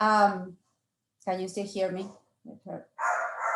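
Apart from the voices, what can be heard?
small dog barking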